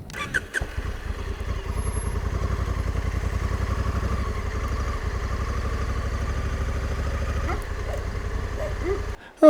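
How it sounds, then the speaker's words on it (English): A motorcycle engine idles steadily nearby for most of the stretch, a continuous low throbbing rumble, before cutting off abruptly near the end, at a roadside stop on a solo ride through the Argentine Andes near Cachi. "Voy a aparcar mi moto ali."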